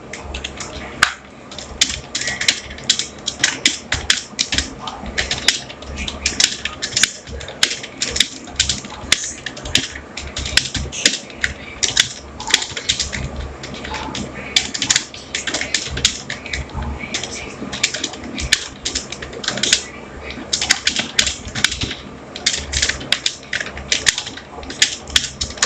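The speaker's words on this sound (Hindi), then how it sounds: "मैं ये पूरा पैराग्राफ आपको टाइप करके दिखा देता हूँ" Rapid, continuous clicking of keys as a full paragraph is typed on a computer keyboard, dense irregular taps close up for the whole stretch, with no voice over it.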